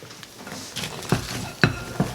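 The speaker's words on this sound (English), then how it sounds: "we're going to stir this up some more" Pecans being stirred in a bowl with a cinnamon and salt mixture: a few soft scraping sweeps and clinks of the utensil against the bowl, close by, with no talking.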